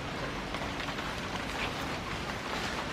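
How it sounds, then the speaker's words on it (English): Steady rain falls during the rainy season, a dense even hiss of drops with no breaks, fairly faint and continuous, with no voices. "It's raining."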